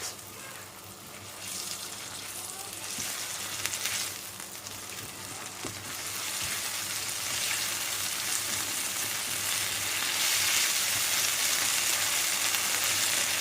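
Masala fries coated in barbecue sauce sizzle and crackle steadily in a pan over high heat, a broad hiss that grows a little louder and denser over the course of the clip with no talk.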